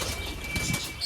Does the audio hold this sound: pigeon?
yes